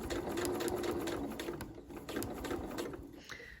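A domestic sewing machine stitches a seam on a dress in Liberty London fabric, running steadily with a continuous close, loud motor whir and rapid needle clatter throughout, alone without talk.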